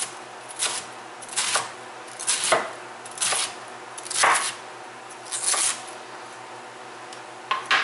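Cabbage and other vegetables for chicken soup are chopped on a board with a knife, about seven crisp, close thuds at a loose, uneven pace, each with a brief crunchy tail.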